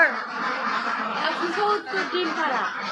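Ducks on a duck farm holding about 170 laying ducks quack in a loud, continuous chatter of overlapping calls. The flock is close by and keeps calling throughout the clip.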